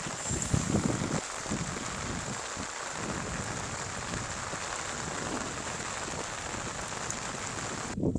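Rain falls on the Brahmaputra river, a constant dense patter mixed with some gusty wind buffeting the microphone. It stays steady and fairly close throughout, with no voices.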